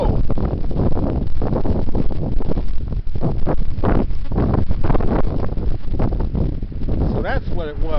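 Heavy wind buffets the microphone during a snowstorm, a loud, steady roar with gusty surges throughout; a voice is briefly audible near the end.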